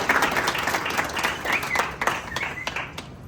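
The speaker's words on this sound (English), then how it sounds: "Shall we do a big round of applause?" Crowd applause at a welcome event in a Kumasi stadium, loud, close and dense clapping in uneven surges with a few sharp accents, carrying on without pause.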